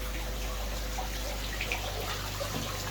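Water flows into a DIY 25-litre trickle tower pond filter, a soft, continuous trickle and splash with faint drips, steady and fairly quiet throughout.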